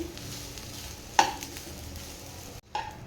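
Rice being mixed in a pan for a quick egg rice, a soft scraping stir under a faint low sizzle, with one sharp utensil clack near the middle and a softer tap toward the end.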